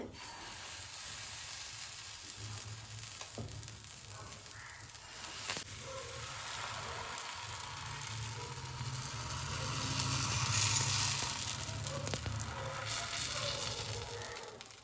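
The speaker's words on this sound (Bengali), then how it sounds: "এবার চাটুর উপরে কোনো তেল নয় কিছু নয় দিয়ে দিচ্ছি ব্যাটারটা" Rice-flour batter sizzling on a hot, unoiled griddle (chatu) over a strong gas flame, a steady close hiss that rises slightly partway through, with faint background noises.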